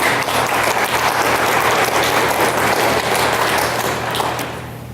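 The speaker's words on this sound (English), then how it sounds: "One more round of applause for Annabelle Van Meter." An audience at a board of education honors ceremony gives a round of applause for an honoree, full and even clapping over a low room hum that begins to fade toward the end.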